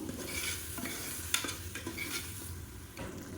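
Ginger, garlic and onion paste sautés in oil in a pot for mutton biryani, a close sizzle broken by spoon stirs and scrapes and one sharp metallic clink, short and fairly quiet with no voices.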